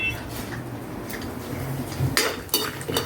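A spatula scraping and clinking against a cooking pan while stirring chopped potato, green chili and peanuts for sabudana khichdi, with irregular metallic taps and scrapes, close and moderately loud, without talk.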